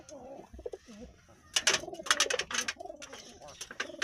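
Several pigeons cooing close by in soft, throaty bursts, interrupted by a few flurries of wing flaps or rustling.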